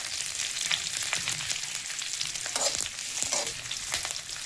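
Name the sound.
garlic frying in oil on low flame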